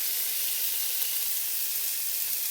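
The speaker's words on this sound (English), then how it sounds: "get our onions in and our potatoes. We're just going to give those a little saute" Onions and potatoes sautéing in melted butter in a soup pot, a close, even, continuous sizzle and hiss, steady throughout with no talk.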